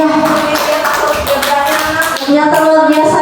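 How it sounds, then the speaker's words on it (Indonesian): Continuous dense applause from a seated audience honoring a speaker at a school culture program, loud, close clapping holding steady with tonal background music or hum running underneath. "Terima kasih tepuk tangan buat Ibu Rina."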